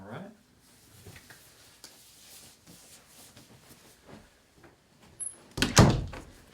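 A resident's room door in a care facility swings shut with a solid thunk near the end, after a stretch of quiet room noise and soft shuffling, with talk nearby.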